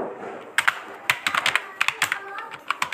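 Close, crisp keystrokes on a computer keyboard, tapped in quick irregular clusters with brief pauses while text is entered into an Excel spreadsheet; no voice over them.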